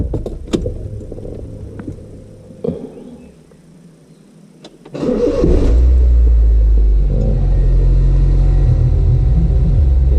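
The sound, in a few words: Honda Jazz GD3 car engine starting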